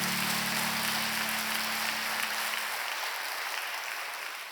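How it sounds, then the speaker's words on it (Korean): A church congregation claps during an open worship service, a broad steady wash of applause with a low hum underneath that fades out near the end. "옆 사람들에게 박수 한번 쳐드릴까요?"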